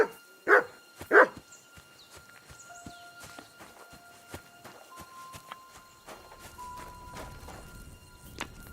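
A dog in the medieval video game Kingdom Come: Deliverance II gives two loud, sharp barks close by, followed by soft footsteps and faint ambient game sounds.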